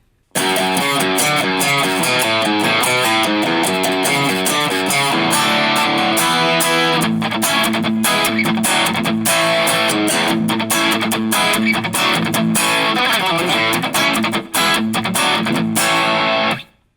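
An Enya Nova Go Sonic guitar run through its onboard Train distortion effect plays loud, saturated riffs, starting with rhythmic chugging and moving into denser sustained chords before cutting off at the end.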